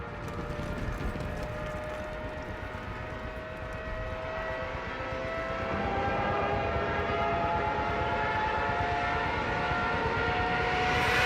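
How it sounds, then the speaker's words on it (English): A long, wailing siren on diving German warplanes drones over the roar of aircraft, the noise swelling louder toward the end, with no voices. "The most impactful use of sound is the sirens on the German planes."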